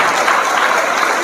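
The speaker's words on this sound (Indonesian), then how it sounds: "Tepuk tangan lagi." Loud, dense applause from an audience at a public speech or talk, a brief unbroken wash of clapping heard up close.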